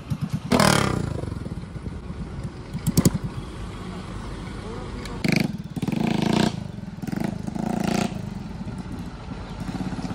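Motorcycle engine running during a ride through a village, with uneven bursts of engine noise and clattering that rise and fall, while people talk over it.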